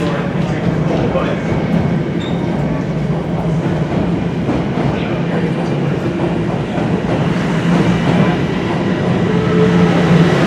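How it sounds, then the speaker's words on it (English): A Toronto subway train rumbles and clatters steadily as it pulls away from the station, wheels rattling on the rails, with a faint voice in the background. "And I just missed a train."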